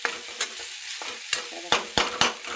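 Urad dal roasting in a pan, with soft crackling sizzle and scraping stir strokes, punctuated by several sharp spatula knocks against the pan, close and moderately loud.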